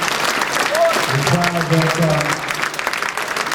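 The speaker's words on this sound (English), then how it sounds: "So how about a hand clap for my boy?" Audience applause for a speaker's son, a police officer, steady broadband clapping filling the hall with some voices or cheers rising over it, continuing at even loudness to the end.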